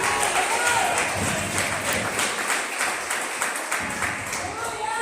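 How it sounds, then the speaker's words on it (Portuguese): A church congregation applauds a person called up during a worship service, the clapping steady and fairly close, mixed with crowd murmur and voices throughout. "Receba essa pessoa com palmas."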